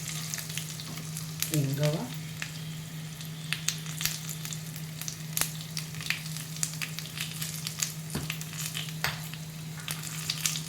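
Turmeric and spices fry in hot oil for a tempering, giving a steady close sizzle with scattered crackles and pops, and a voice speaks briefly early on.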